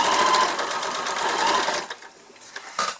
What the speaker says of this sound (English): And then just sew back down, leaving a little gap. And just back stitch.